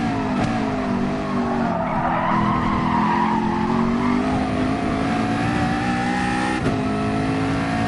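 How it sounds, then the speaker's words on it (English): A GT-R racing car in a video game roars down the straight, its loud, steady engine note climbing and sustained throughout, with a brief tire squeal near the start and another sharp transient late on. "God, look how fast this GTR is in the straight."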